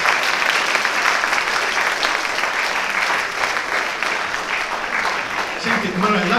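Audience applause at a cinema gala honoring Alessandro Cardelli, sustained clapping from a large crowd in a hall, steady and loud throughout, with a voice surfacing faintly near the end.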